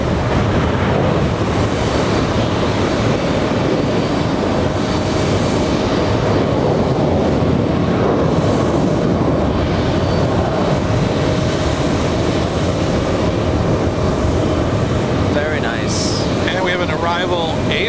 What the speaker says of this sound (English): There goes the Big 777-200 flying to Athens. Rolls-Royce engines powering up